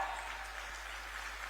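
Audience applause at an official government event in Jharkhand welcoming legislators on stage, a fairly quiet, continuous patter of clapping heard at a distance beneath a low steady hum.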